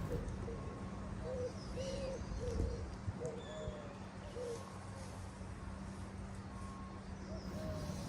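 Wild birds call by a river quay, soft cooing and repeated short chirps scattered over a steady hum of outdoor background noise, fairly distant and faint.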